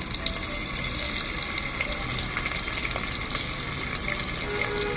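Thin, long-cut sliced onions sizzling in hot oil in a pan, with fried green chillies, for an Andhra-style recipe. The frying hiss is loud, close and continuous, with occasional small crackles and no talk.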